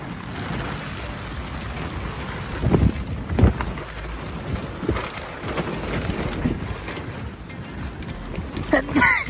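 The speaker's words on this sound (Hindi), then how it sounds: "इतना भयानक तूफान" Heavy rain pours during a violent storm around a camping car in Goa, a dense roaring wash with gusty surges and a few deeper rumbles, loud and close, with voices talking over it.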